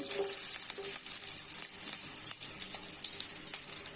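Cumin, mustard seeds and a small onion frying in hot oil, giving a dense, loud, steady sizzle with faint spattering crackles close up throughout and no voices.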